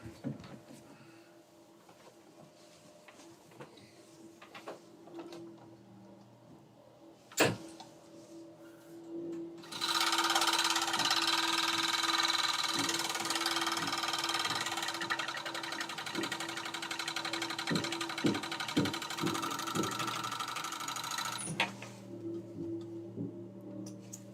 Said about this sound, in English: go back to the serger